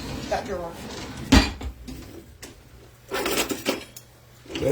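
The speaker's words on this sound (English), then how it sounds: "Look in that drawer and get me my tongs." Metal utensils and kitchenware clatter and clink as someone rummages through a kitchen drawer for tongs while cooking chili, with sharp knocks and jangles between stretches of background noise and voices.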